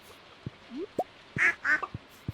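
Two clear duck quacks in the Stardew Valley farming game, close and fairly loud, set among short soft clicks and game blips.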